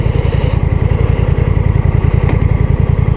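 A Honda Rebel CMX 1100 DCT cruiser motorcycle pulls away with a loud, close, rhythmic engine pulse that throbs evenly throughout.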